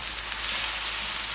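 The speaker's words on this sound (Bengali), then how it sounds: "একটু নাড়া দিয়ে দিই" Red chili powder and spices frying in a pan while being stirred, a brief dense hiss of sizzling oil, close and steady, no talk.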